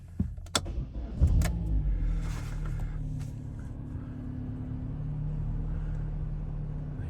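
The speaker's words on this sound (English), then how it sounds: "We'll just start her up so you can see there's no warning lights, nothing untoward." 2014 Vauxhall Astra 1.6 16v starting up: a few clicks and key rattles, a brief cranking burst, then the engine settles into a steady, quiet idle hum heard from inside the car.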